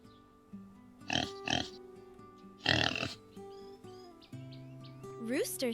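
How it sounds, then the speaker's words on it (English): A pig gives several short grunting oinks in separate bursts, close and moderately loud, over soft background music with light chirping sounds near the end. "Pig says, oink."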